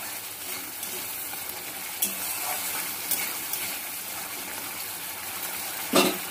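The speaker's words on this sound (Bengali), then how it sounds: "এবার ভালো করে টমেটোর সঙ্গে জিরে লঙ্কা বাটাটা ভালো করে কষিয়ে নেব।" A cumin-chili paste fries with tomatoes in a pan, a continuous soft sizzle with occasional scrapes of the spoon, the loudest near the end, close and without talking.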